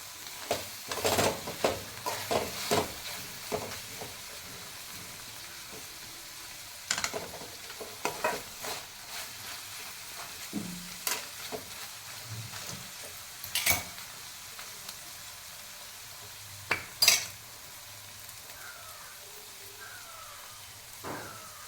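Green beans being stir-fried over a low flame for a Kerala payar mezhukkupuratti, with intermittent scraping and stirring clatters over a faint, steady sizzle, with quieter stretches between strokes.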